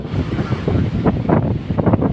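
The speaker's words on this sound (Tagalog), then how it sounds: "ang kalagayan ng dagat sa isla malaki ang alon" Big sea waves off an island roll and crash close by, mixed with gusty wind buffeting the microphone in an uneven, loud rumble.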